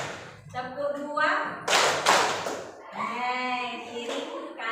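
Between stretches of spoken counting, a short run of a few quick, close hand claps sounds during a classroom counted-clapping exercise.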